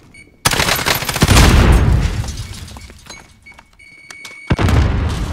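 In a Warzone match, a grenade blast erupts close and loud with shattering debris. Bursts of automatic gunfire follow, then a second heavy boom near the end, with no talking over the chaos.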